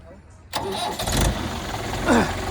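A Mahindra tractor's diesel engine starts with a sudden loud burst and settles into a rough idle nearby, while someone talks over it.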